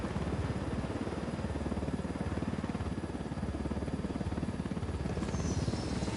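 A Ghost Recon Wildlands helicopter's steady rotor chop and engine drone fill the whole stretch, loud and constant, with no talking.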